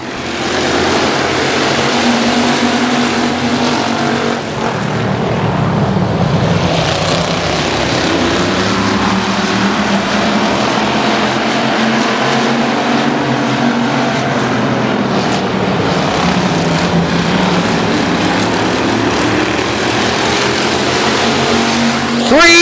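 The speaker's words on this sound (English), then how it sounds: "Set the restart from the front row. Andy Stevens on the loud pedal" Race cars at a night King of the Hill event roar as they accelerate on a restart, a loud continuous engine blare with shifting pitch, and a commentator talks over it throughout.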